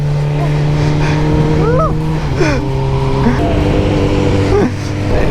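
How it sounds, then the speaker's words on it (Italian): Go-karts circling a track, several small engines buzzing and whining with rising and falling pitch as they pass, a steady loud engine drone beneath, with voices talking over it. "Stanno girando quei kart."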